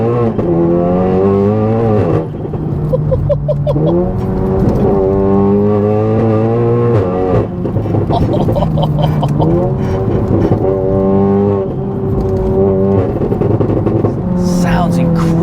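A fully built 600bhp Golf GTI TCR engine revs repeatedly, rising and falling in strong, close bursts with crackling overrun between throttle blips, while people talk over it.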